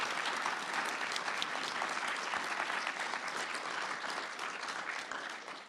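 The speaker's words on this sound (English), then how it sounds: "Let's give a round of applause to our panel." An audience applauds a panel discussion on coal mining communities, a dense, sustained clapping that fades slightly toward the end.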